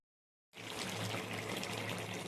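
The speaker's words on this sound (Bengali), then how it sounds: "এবার জল দিয়ে দেবো" Water poured into a pan of spiced curry masala cooked until the oil separates, starting abruptly after a short silence and continuing as a steady, soft splashing pour.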